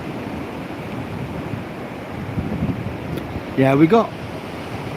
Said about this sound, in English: The sea coming right up, lapping along